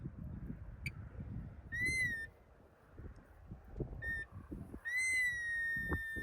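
A CEIA CMD mine detector gives pairs of high, steady electronic tones over soft scraping and rustling along the ground, with a longer tone sounding near the end.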